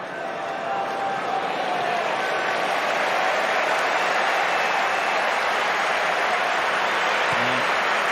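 A big, noisy football crowd fills a stadium at a Liverpool home match against West Ham, producing a steady, loud roar that holds throughout without breaks.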